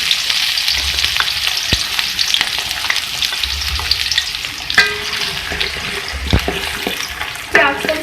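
Onions fry in hot oil with a loud, steady sizzle, punctuated by occasional sharp clinks and scrapes of a stirring spoon against the pan.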